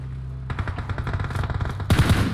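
Automatic gunfire in the video game PUBG Mobile, a rapid burst of loud, close shots in quick succession, followed by a heavier, louder volley near the end.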